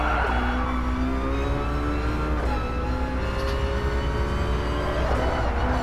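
Fittipaldi EF7 Vision Gran Turismo racing car with a V8 4.8 32V engine in the GT Sport video game, engine droning steadily with a brief tire squeal as the rear slides, a continuous loud game mix.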